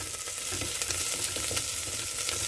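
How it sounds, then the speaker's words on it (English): Onion and garlic browning in cocoa butter in a pan give a steady, close sizzle and fry hiss throughout, with faint scrapes and no talking. "what I'm doing is just browning an onion and some garlic in cocoa buttons"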